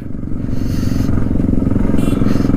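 A Yamaha R15 motorcycle engine rumbles steadily at cruising speed on a Kodaikanal ride, loud and close, with wind noise and rattling over the low drone.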